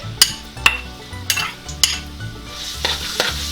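Garlic stirred in hot cooking oil for pork tripe adobo sizzles steadily up close, broken by several sharp spatula scrapes and clinks against the pan at an uneven rhythm.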